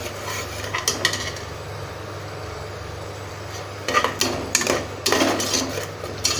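Fenugreek leaf paste being stirred and sautéed in a pan for keerai biryani, with scraping clinks of a utensil against the metal in scattered bursts, busiest toward the end, over a low steady background.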